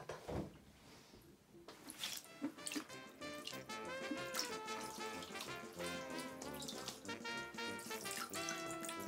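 Hot water runs from a tap, a steady, fairly loud rushing splash that goes on through the clip with no talk over it.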